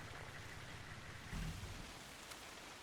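Steady rain falling in Arma Reforger, a broad even hiss holding at constant strength throughout, with one brief louder thump partway through and no talking.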